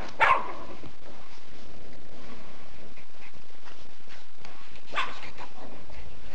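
Yorkshire terriers playing with a ball let out a sharp bark near the start and another around the middle, set against a steady background hiss with faint movement between them.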